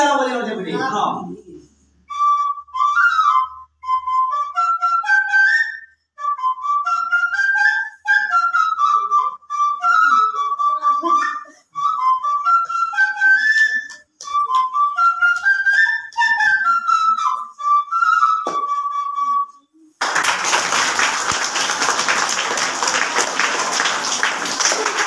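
A visually impaired man named Upendra Suradas plays a flute through his nose, a clear whistling melody rising and falling in repeated phrases for about twenty seconds, then giving way to a burst of loud applause.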